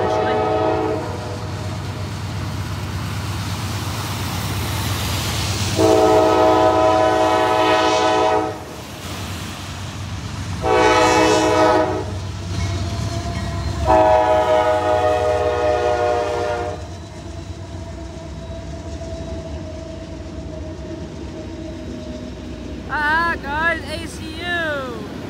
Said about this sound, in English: waiting for a manifest train with an SD70 ACU